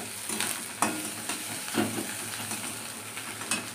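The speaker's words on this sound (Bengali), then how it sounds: "তো এইখানে ভাজা করছি ভাত" Leftover rice from the night before fries in a pan, a soft steady sizzle with occasional scraping stirs of a spoon against the metal, heard close and without talk.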